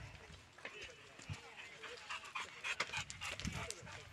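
A dog panting quickly at close range on an outing in Għargħur, Malta, soft rapid breaths with a few faint whimpers and some background stir, fairly quiet throughout.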